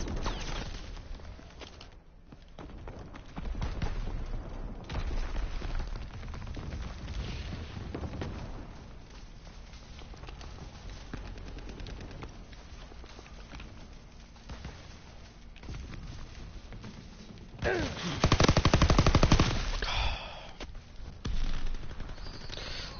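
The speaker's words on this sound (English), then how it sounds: "Enemy mortar fire incoming." Mortar blasts and gunfire in the World War II shooter game Call of Duty WWII, a steady, dense battle din throughout with a louder burst of explosion near the end.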